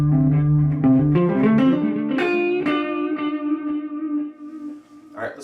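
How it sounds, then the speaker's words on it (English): Electric guitar played through a Boss RE-202 Space Echo delay pedal with the echo volume raised: a few picked notes and a ringing chord whose repeats trail away clearly, loud and close, with no talking. "I'm going to up the echo volume a little bit, just so we can really exaggerate and hear the echo"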